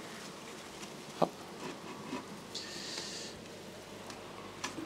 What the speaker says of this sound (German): Da hängen auch noch ein paar hundert Bienen dran.